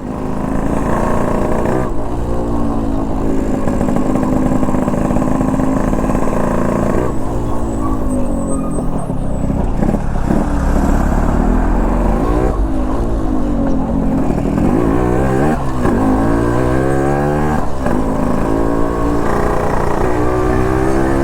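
Dulari, a motorcycle with an updated loud exhaust, idles with a steady throb and is repeatedly revved in rising and falling surges, close and loud throughout with no voices over it.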